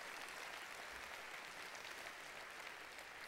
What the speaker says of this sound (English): how about one more round of applause for Jim, for Dave, for Dane,